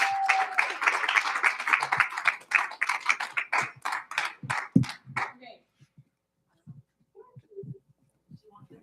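A presentation audience claps and cheers for a presenter, a dense burst of applause that thins out and fades after about five seconds, leaving scattered faint sounds.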